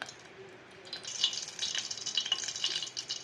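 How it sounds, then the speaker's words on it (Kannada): Three tablespoons of oil heating in a pan on a stove for Andhra-style tomato dal, giving a faint, close sizzle with light crackles that grow busier after the first second. "ಸ್ಟವನ್ನು ಹಚ್ಚಿ ಒಂದು ಪಾತ್ರೆ ಇಕ್ಕಿ ಅದಕ್ಕೆ 3 ಟೇಬಲ್ ಸ್ಪೂನಷ್ಟು ಆಯಿಲ್ ಹಾಕಿದ್ದೀನಿ"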